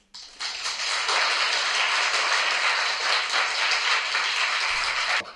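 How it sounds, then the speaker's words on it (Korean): Sustained audience applause at a lecture event, dense steady clapping rising quickly and holding for about five seconds before cutting off. "지금도 추운 곳에 있는 분들한테 꼭 박수를 한번 쳐줬으면 좋겠어요."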